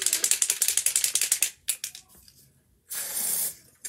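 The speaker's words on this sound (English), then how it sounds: "we're gonna go right in with the spray foundation and the kabuki brush." Spray foundation makeup mists out in a short, bright hiss near the end, after a quick run of rattling mechanical clicks from the can or pump.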